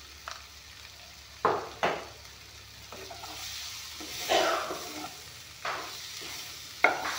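A spoonful of black pepper powder goes into a frying pan and gets stirred, with several sharp scraping strokes of the spatula over a steady sizzle, close and without voices.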